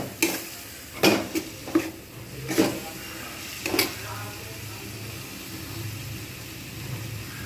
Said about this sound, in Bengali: জিঞ্জার গার্লিক পেস্ট লঙ্কা গুঁড়ো হলুদ গুঁড়ো পরিমাণ মতো আর এবারে দেব লবণ এগুলো ভালো করে একদম কষে নেব